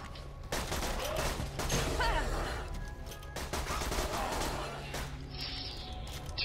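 Rapid, dense gunfire from the Borderlands 2 video game rattles on in sustained volleys at a fairly low level, with blasts and crashes mixed into the barrage.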